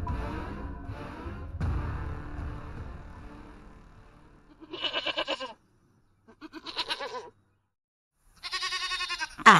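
Goats in a pen bleat in three separate wavering calls after a stretch of low rumbling thuds and murmur, each bleat loud and close with brief silences between.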